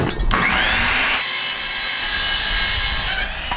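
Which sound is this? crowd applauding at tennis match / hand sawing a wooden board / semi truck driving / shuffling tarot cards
hand sawing a wooden board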